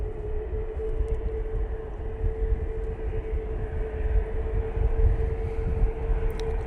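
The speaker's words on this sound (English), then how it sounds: "Finnair A320 crossing over," A Finnair Airbus A320 passing overhead at Manchester Airport, a steady broad jet roar with a constant mid tone, moderately loud and sustained throughout with no talk.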